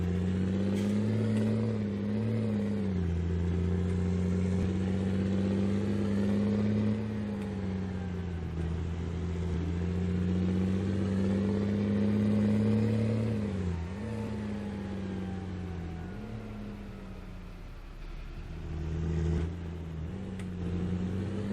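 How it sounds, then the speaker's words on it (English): Tractor engine in Farming Simulator 19, a steady loud droning hum with a few dips and rises in pitch as the load changes, continuous and close, with no talking. "I do like the sound this tractor makes."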